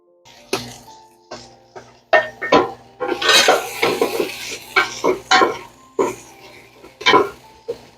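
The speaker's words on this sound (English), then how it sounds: "I'm going to go ahead and throw in the garlic" Chopped garlic goes into a pan of browning jambalaya vegetables, bringing a run of close metallic clatters and scrapes as the pan is stirred, with a faint sizzle underneath.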